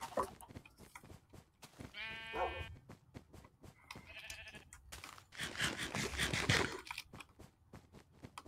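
Sheep bleat in the Minecraft video game: several clear, nasal bleats come in separate bursts, with soft crunching sounds between them and no talking.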